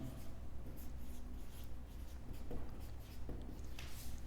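Pen or marker writing out a physics problem on a board, a run of short scratchy strokes with brief pauses, close and fairly quiet.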